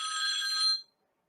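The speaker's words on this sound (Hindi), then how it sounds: "सॉरी मेरा फोन बज गया" A mobile phone rings with a bright, steady electronic trill for under a second, then cuts off abruptly into silence.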